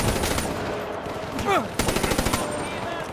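Machine gun fire in Call of Duty Black Ops III, close and loud rapid bursts of rattling shots with a whistling sweep in the middle and voices talking over the combat.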